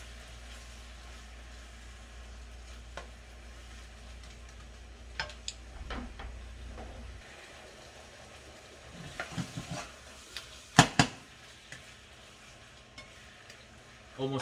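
Steak sizzling in a pan for steak and vegetable fried rice, a soft frying hiss under low hum, with scattered spatula scrapes and clicks building in the second half, close and quiet with no speech.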